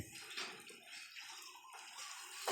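Water poured and splashed over a pet wild boar in a backyard pen, a continuous rushing splash with small surges in flow, close up and with no voices.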